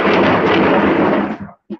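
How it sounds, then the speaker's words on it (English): Thunder rolls loudly over a patio, a long heavy rumble that fades out, followed by a brief second thump. "Excuse the thunder. I'm sitting on the patio,"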